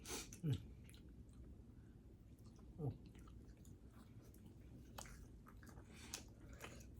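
Someone chews canned fish with rice up close, with soft, quiet mouth sounds and a couple of slightly louder bites over low background noise.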